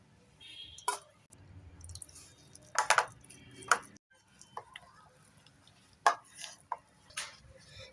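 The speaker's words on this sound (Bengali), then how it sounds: "এবার জল দিয়ে দিয়ে একটা মিশ্রণ বানিয়ে নেব" Spiced batter for bok flower fritters is mixed with water by hand, producing sparse wet squishes and soft stirring clicks against a bowl, close and fairly quiet, separated by pauses.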